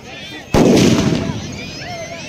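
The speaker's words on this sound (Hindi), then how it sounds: "अब यहां सारे लोग आतिशबाजी शुरू हो गया है" A firework bursts with one sharp, loud blast during the final-day celebrations at Sakrigali in Sahebganj, followed by a rumbling, crackling decay that fades over about two seconds.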